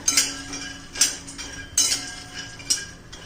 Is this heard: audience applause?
no